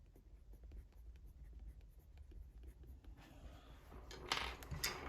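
A Derwent Lightfast colored pencil scratches across paper in soft, close strokes, faint and steady, growing a little louder toward the end.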